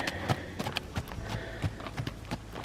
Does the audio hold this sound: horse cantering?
yes